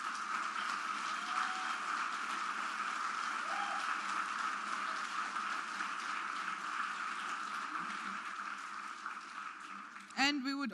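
A lecture audience gives sustained, dense applause at a keynote on transfer learning, steady and fairly loud for several seconds before a voice cuts in at the end.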